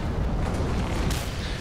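An explosion in the post-apocalyptic driving game Mad Max: a heavy, rumbling boom filling the whole stretch with dense low roar and a sharp crackling burst near the end, loud and sustained without any talk.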